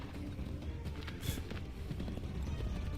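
Horse hooves gallop in Assassin's Creed III, a quick, steady clip-clop of in-game riding that stays fairly quiet and even throughout, with no voices over it.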